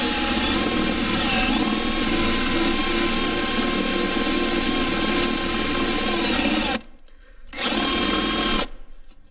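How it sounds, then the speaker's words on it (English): A power drill with a 3/4-inch spade bit whines steadily and loudly while boring into wood, then cuts out briefly, spins up again, and stops near the end. "We'll go ahead and drill those real quick. And we use a 3/4 inch drill bit."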